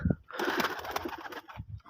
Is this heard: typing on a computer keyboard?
no